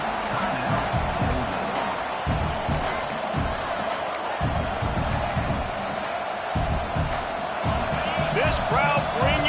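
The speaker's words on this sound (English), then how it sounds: "This crowd bringing the energy and noise early." A football stadium crowd keeps up a steady, loud roar during a college football game, with a commentator talking over the noise throughout.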